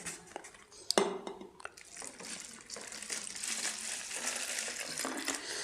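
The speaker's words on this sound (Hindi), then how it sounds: "एक खाली बोतल लेते हैं। देखो खाली बोतल है, इसके अंदर में थोड़ा सा, ज़्यादा नहीं बल्कि थोड़ा ही पानी भर लेते हैं" A little water is poured into an empty plastic bottle, making a soft, uneven trickle and gurgle. A couple of sharp knocks come near the start.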